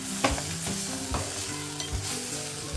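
A paste of cashews, poppy seeds and onion sizzles in hot oil while a spoon stirs and scrapes it around the pan, producing repeated scraping knocks over a constant crackling fry, with no talking.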